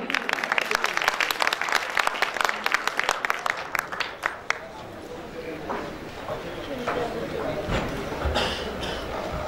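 Audience applause welcoming a woman social worker onto the stage at a Pakistani tribute show, dense clapping filling the first half before thinning into crowd murmur and scattered claps, with talk underneath.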